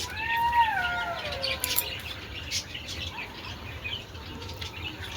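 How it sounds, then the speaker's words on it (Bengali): Jackals call at night, several wavering, falling howls overlapping in the first couple of seconds, fairly faint and distant, then fading into quiet outdoor background. "শিয়াল ডাকছে"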